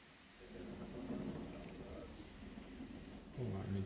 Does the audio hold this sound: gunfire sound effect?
no